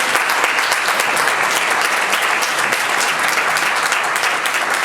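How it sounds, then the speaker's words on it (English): Sustained applause from a conference audience at an airport business diversity gathering, dense and steady clapping filling the room at even loudness for about five seconds with no talk over it. "And so she deserves enormous applause."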